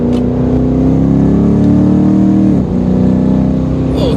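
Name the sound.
tuned Chevy SS accelerating and shifting gears quickly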